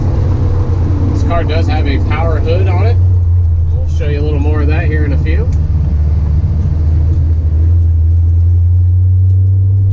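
A 1957 Chevrolet Sedan Delivery drives along with a steady, loud low engine rumble throughout, while someone talks over it.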